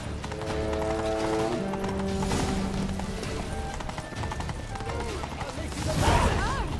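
Horse hooves clip-clop steadily as a rider moves along, with a horse whinnying, voices talking over the hoofbeats and busy background commotion throughout.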